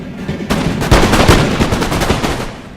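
A loud, dense musket volley erupts in a Napoleon: Total War online battle, a burst of overlapping gunshot cracks at close range rolling on for about two seconds.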